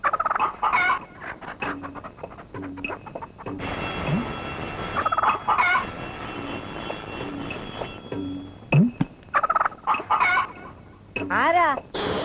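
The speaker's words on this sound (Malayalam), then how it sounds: "ഓ, കോഴിയാണല്ലേ" Poultry clucking and gobbling in short repeated bursts, fairly close, with brief human voices between the calls.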